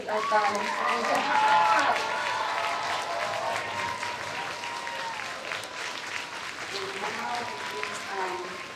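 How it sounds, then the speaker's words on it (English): Audience applause for a school choir fills an elementary school Veterans Day program, a steady wash of many hands clapping that swells early and then slowly thins, with voices mixed in over it. "Another round of applause for the GES choir."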